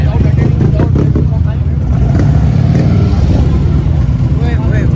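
A loud, heavy motorcycle engine idles and revs with a deep rumble and clattering, while voices talk over it.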